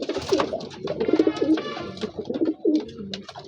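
A pair of Kamaka pigeons, a female and a male, coo in soft, repeated throaty phrases close by, with small rustling and chirps between the calls.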